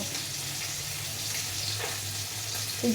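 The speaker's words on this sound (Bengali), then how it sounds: "এটা জলটা বের করে নেবো আর খোসাটা থেকে যাবে" Water being poured off mustard seeds to wash away their husks, a steady rushing, splashing pour running alone throughout.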